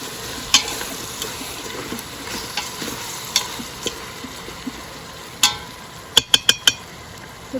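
Food sizzles in a pan at a campsite while a utensil stirs it, a steady low frying hiss under sparse scraping taps, ending with a quick run of four sharp clinks against the pan, close by.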